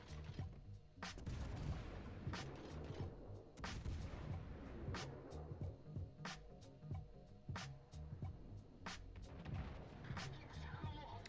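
The naval guns of the warship Mogami fire repeated volleys in a video game, sharp booming salvos recurring every second or so, with a voice likely talking faintly underneath.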